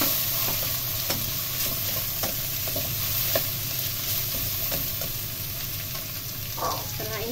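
Vermicelli stir-fried with seafood and paprika sizzles steadily in a pan, broken by sharp scrapes and taps of a spatula tossing the noodles, and no one speaks.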